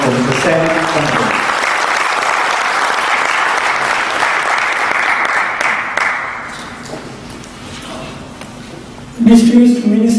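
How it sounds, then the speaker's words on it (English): A crowd at a speech event applauds a speaker, thick sustained clapping for several seconds that fades away, then a voice begins talking at the close. "Big round of applause for Mr. Kannappan."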